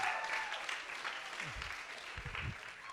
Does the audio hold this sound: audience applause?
yes